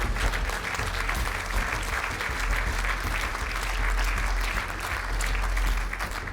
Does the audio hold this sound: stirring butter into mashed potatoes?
no